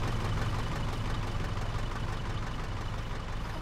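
A tractor engine idles steadily in the video game ARMA III, a constant low mid-range rumble with a faint knocking texture, loud and unbroken throughout with no speech.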